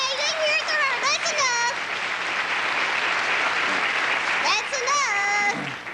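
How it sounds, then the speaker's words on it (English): A concert audience claps in a dense, sustained round of applause for a performer at a country music show, steady and full throughout, with a voice talking over the clapping near the start and again near the end. "would you let me have some applause for her?"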